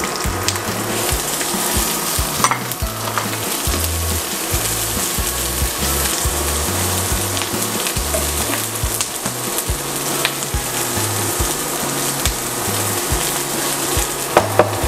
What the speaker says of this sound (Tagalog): Ngayon, ilalagay natin ang ating garlic. And onion.